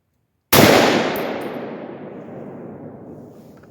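A Palmetto AR-10 rifle firing a 149 gr American Sniper 7.62x51 round with the gas set to position 3 of 17: one loud, close shot with a sharp crack and a long, ringing decay afterward, with no talking.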